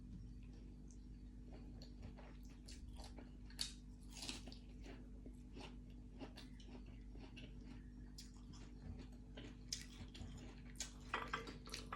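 Crisp crunching and chewing of fresh green vegetables up close, a steady run of snapping bites over a low electrical hum, with no talking.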